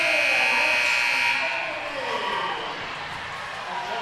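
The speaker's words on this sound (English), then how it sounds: "The final buzzer sounds" A long, loud arena buzzer ends a boys' high school hockey game, then fades into roaring crowd noise with a commentator talking over it.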